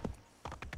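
A horse's hooves clop softly on a road in the Assassin's Creed 3 video game: one step, then a pause, then three quick, quiet beats.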